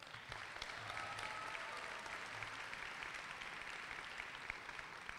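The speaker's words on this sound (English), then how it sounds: "Let's give you a round of applause again." A university audience at an evening welcoming torchlight ceremony claps steadily, a dense, even wash of applause held at a constant level throughout with no voices over it.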